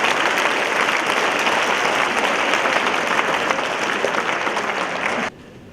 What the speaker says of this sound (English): Let's give it one more round of applause for Mr.